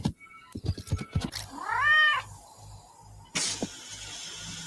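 A hungry cat meows at feeding time: several short, close mews in quick succession, then a longer rising-and-falling meow, with a brief clatter and low background hum.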